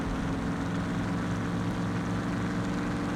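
Supercharged Bruin truck engine in a Roblox Mad City race against a Camaro, a continuous droning roar with a steady low hum, held at constant pitch throughout.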